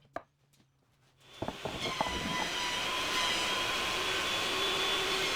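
A thicknesser planes reclaimed wooden studs, starting with a few sharp knocks before the machine rises into a loud, continuous whining roar that holds steady to the end, with no talking.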